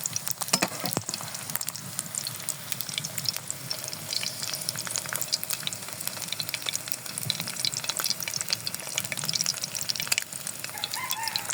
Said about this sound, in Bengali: এভাবে আস্তে আস্তে এরকম হালকা ভাজা হলে লক্ষ্য রাখতে হবে যে ডিমের কুসুমটা যাতে না ফাটে